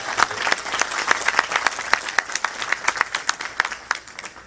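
An audience at an international mushaira in Houston breaks into dense, steady applause, many hands clapping close together for several seconds before the sound thins out.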